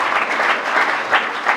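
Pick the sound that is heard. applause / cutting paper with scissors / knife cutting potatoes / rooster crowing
applause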